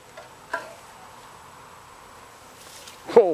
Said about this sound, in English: There's a lot of bees following you.